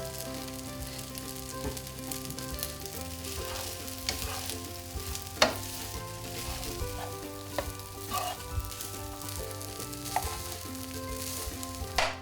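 Egg fried rice stir-frying in a hot pan, with a steady sizzle and scattered clinks and scrapes of the utensil against the pan, while low background music plays underneath.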